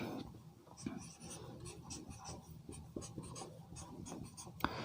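Marker or chalk writing on a board during a chemistry lecture, a steady scratchy rubbing of strokes with short pauses and a sharp tap near the end, with faint room noise and no talk.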